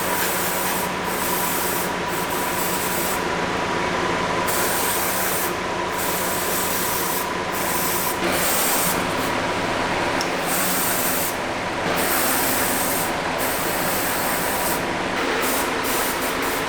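Spray gun laying Cerakote coating onto the frame studs of a Mitsubishi Evo 9 in a garage: a steady close hiss of spraying, broken by short pauses between passes, running the whole time with no talk.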